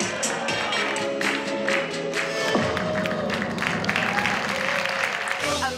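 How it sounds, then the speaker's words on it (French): An audience applauds a spectacular magic act at a Las Vegas show, a dense wash of clapping and crowd noise with a few cheers, continuous and fairly close. "Sur scène, ceux qui l'ont découvert en ligne applaudissent en vrai les tours les plus spectaculaires"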